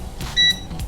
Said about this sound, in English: We got a little bit of a beep.